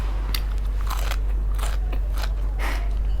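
Close, loud crunchy chewing of spicy Thai-Lao papaya salad, several sharp bites and crunches in an uneven rhythm over a low steady hum, with no talking.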